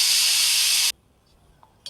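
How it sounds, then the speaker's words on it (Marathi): A pressure cooker whistle: a loud, steady hissing blast of steam cuts off abruptly after about a second, followed by near silence with a couple of faint clicks. "तिथे आपल्या कुकरची शिट्टी पण होत आहे"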